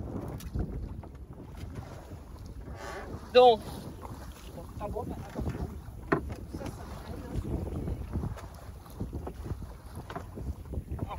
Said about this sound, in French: Je vais essayer de faire un virement de bord toute seule.